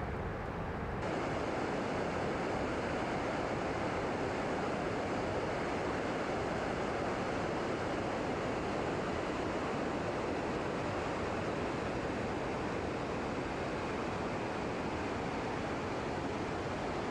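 Victoria Falls in Africa roars as a massive waterfall, giving a constant, dense, broadband rush that stays loud and unbroken throughout with no voices.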